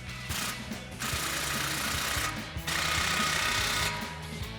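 Power tool running a 15mm socket to tighten an exhaust clamp on a 2021-2023 Ford F-150, rapid rattling impacts in three bursts separated by short pauses, close and fairly faint.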